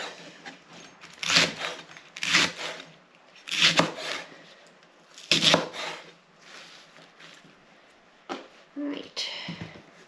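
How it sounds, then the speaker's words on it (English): Leeks chopped on a board for leek and potato soup, about four loud, evenly spaced knife chops close by, followed by quieter handling noises and a few brief lighter knocks. "just prefer to chop them all up first"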